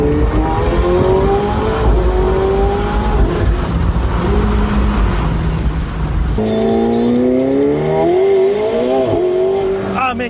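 A sports car accelerates hard, heard from the passenger seat, its loud engine rising in pitch through repeated gear changes and climbing again, continuous and close throughout.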